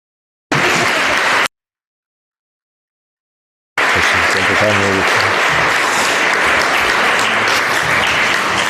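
An audience at a book presentation in the Museo de Pontevedra claps loudly and steadily, a short burst first, then a pause, then sustained applause from a full room.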